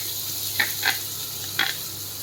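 Chopped medium onions frying in hot oil in a pan, a steady soft sizzle broken by three short louder bursts of stirring or scraping.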